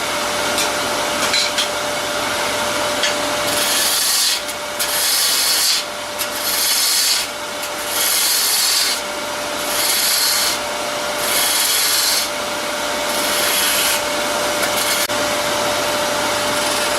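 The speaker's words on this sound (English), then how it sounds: "I'll continue to sculpt the cup now." A wooden cup being sculpted by hand, with rhythmic bursts of coarse rasping and scraping strokes that come in regular passes with brief pauses between them, close and fairly loud.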